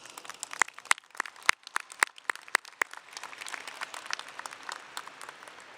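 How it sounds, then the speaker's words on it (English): A graduation audience claps for families, sharp scattered hand claps at first that thicken into a denser, fainter wash of applause heard from some distance. "giving them a loud round of applause"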